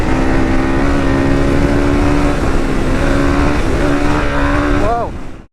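A Honda CRF300 motorcycle in its stage 4 final setup being ridden, with a steady, close engine drone and rushing wind throughout, pitch wavering slightly before a brief rev climb and the sound cutting off at the end.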